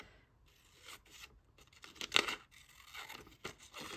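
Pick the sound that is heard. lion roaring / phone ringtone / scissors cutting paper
scissors cutting paper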